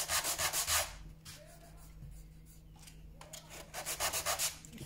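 A sanding block rubs back and forth over wood to level a dried glue seam on a wooden W. Watson camera, with bursts of quick rhythmic strokes at the start and end around a quieter pause.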